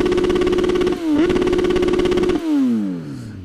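Kawasaki Z1000 motorcycle engine revs close and loud, holding steady with a brief dip, then its pitch falls away as the throttle is released; no talking.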